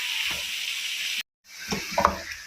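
Chicken pieces hitting hot oil in a pan with red chilli, turmeric, dried coriander, ginger and garlic, giving a steady close sizzle with a sudden brief silence, then renewed frying with stirring clatter.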